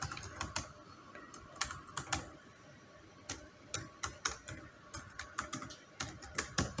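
Someone types a website address on a computer keyboard: quick, uneven runs of soft key clicks, close and fairly quiet, with brief pauses between bursts.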